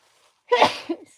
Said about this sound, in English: he's not supposed to sneeze